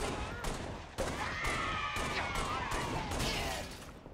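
Gunfire in Halo Reach, a rapid series of sharp, loud shots at irregular intervals, each with a ringing metallic tail, over a continuous game background.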